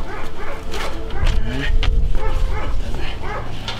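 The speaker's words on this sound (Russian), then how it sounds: "Собаки гавкают." Dogs barking in a horror-themed video game set in an abandoned house, repeated yapping barks and whimpers in a quick irregular series, close and loud, with a voice talking over them.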